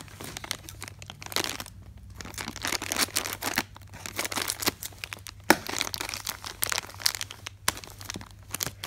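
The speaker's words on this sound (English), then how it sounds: "So I think I'm gonna need some scissors." Toy packaging being opened for Num Noms and other mystery collectibles, with sustained crinkling and crumpling of plastic and paper in close bursts throughout, cut short by scissors and handling noises, alone without talk.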